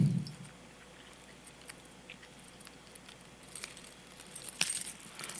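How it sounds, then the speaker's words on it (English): Keys caught on a wallet jangle in faint, scattered metallic clinks, growing busier and louder toward the end. "but now my keys got caught on my wallet and distracted me"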